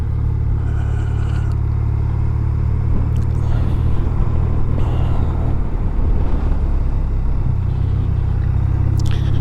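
A BMW R 12 nineT motorcycle engine idles with a deep, steady, close rumble, outdoors in blustery wind, with occasional faint rustles over the continuous throb.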